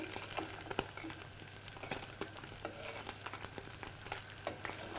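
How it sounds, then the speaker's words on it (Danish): Fresh cod roe fries in a hot pan, with a steady close sizzle and frequent sharp spatters and pops running through the whole stretch, with no voices. "Og så kan I høre, det ligesom det sprutter lidt."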